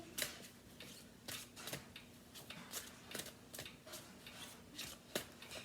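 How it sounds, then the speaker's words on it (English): Psychic Tarot cards being shuffled by hand, a quiet series of crisp riffling bursts repeating in an irregular rhythm, close and faint with no talk. "I got to shuffle these. These are my Psychic Tarot cards."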